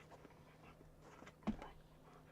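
A puppy pants softly and faintly, with one brief whimpering yelp near the middle, over a low steady background hum.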